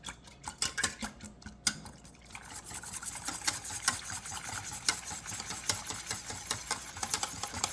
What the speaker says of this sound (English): So we're going to mix this up with a whisk real good.